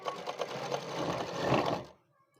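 A sewing machine stitches a suit in rapid rhythmic bursts, close and moderately loud, then stops abruptly into near silence.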